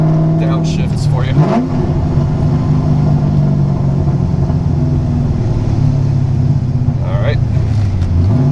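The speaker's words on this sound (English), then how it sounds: "here's some downshifts for you" Cammed C5 Corvette engine blipping through downshifts, a loud close rumbling idle with a few sharp revs rising and falling, heard from inside the car.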